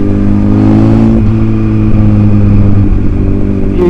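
Honda CBR1000RR sports bike with a loud exhaust revving steadily nearby, a deep continuous engine drone with rising and falling revs throughout.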